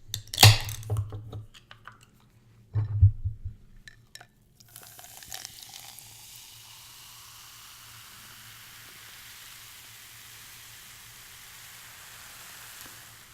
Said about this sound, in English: Love the sizzle sound.